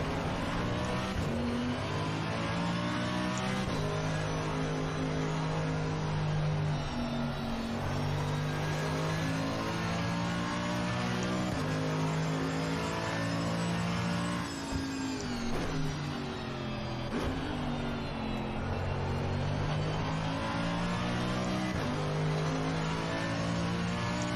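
Race car engine revving and shifting on track, a loud continuous drone rising and falling through gear changes, with another car running close alongside.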